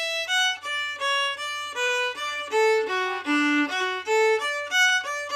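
A solo Québécois fiddle tune played without its key bowing, in short, evenly separated bowed notes, each stroke similar in weight, giving a flat, somewhat monotonous feel.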